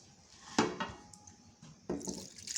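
Cooking oil is poured into a glass while making almond amlou: a few soft liquid splashes and light glassy knocks, close and quiet, with short pauses between.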